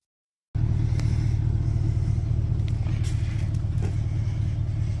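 A 24V ride-on UTV toy with upgraded electric motors drives along, giving a steady, loud low rumble and whir that holds constant throughout after a brief silent start.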